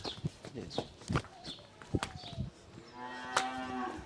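A pregnant dairy cow, due to calve and said to give 25 litres of milk, moos long and close at a Bangladeshi cattle sale, after shuffling hoof steps and brief voices nearby.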